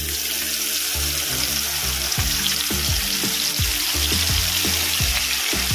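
Poppy seed and chili-ginger paste sizzling in oil left from frying fish: a steady, loud hiss and crackle close by, with a low bubbling pulse underneath that repeats in uneven bursts.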